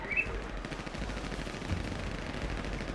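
Rapid, continuous gunfire from GTA 5 roleplay rattles on for several seconds, dense and somewhat distant-sounding.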